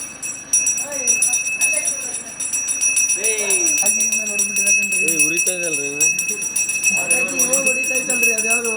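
A temple gong bell rings at an Ayyappa Swamy festival procession in Maddur, with a steady metallic ringing running throughout while voices talk and shout over it.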